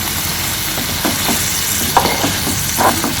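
Dried Chennakunni shrimp thokku frying in a pan over a low flame, with a steady close sizzle and scattered soft scraping and stirring clatters throughout.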